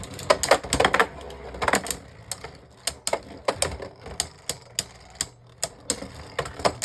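Beyblade Burst spinning tops battling in a plastic stadium, sharp repeated clacks and rattling collisions at a quick, fairly regular pace, loud and close.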